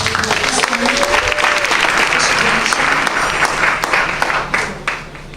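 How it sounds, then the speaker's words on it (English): Loud, sustained applause from a large crowd at an awards ceremony, dense clapping throughout that begins to thin out near the end. "And round of applause."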